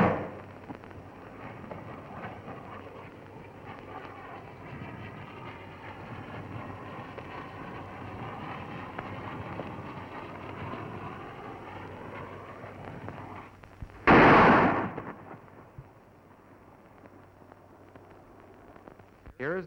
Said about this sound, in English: Here is the burst of the shell.